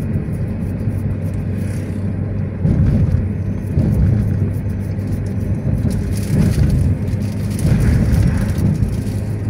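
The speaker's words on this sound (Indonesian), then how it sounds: "Mobil kenceng-kenceng ya larinya ya" Cars speed along the Trans-East highway near Ogan Komering Ilir between Palembang and Lampung, a continuous loud road roar with heavier swells as vehicles rush past close by.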